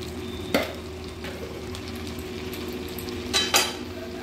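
A spiced masala with salt and a pinch of sugar being fried in a pan under a steady close hiss, with a few louder spatula scrapes near the start and two more toward the end.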